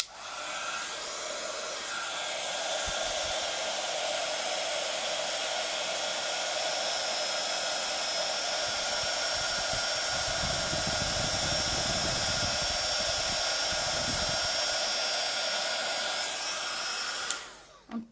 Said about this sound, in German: Achtung mit dem Föhn